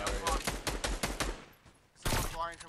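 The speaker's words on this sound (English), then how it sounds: "Yeah, I'm shooting at him." Gunfire in Fortnite Battle Royale comes as a quick string of sharp, evenly spaced shots, then a short lull and one more loud burst.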